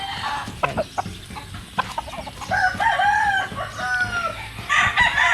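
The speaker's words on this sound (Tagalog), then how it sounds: "so yan yung pang anim na broodcock dito sa Manukan" A fighting rooster broodcock on a gamefowl farm clucks in short, close bursts, then lets out drawn-out crows near the end, loud and alone with no talk.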